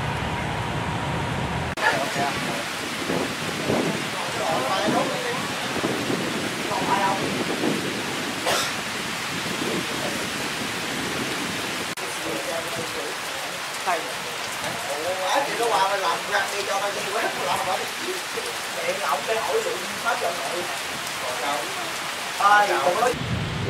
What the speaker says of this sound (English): This rain is welcome.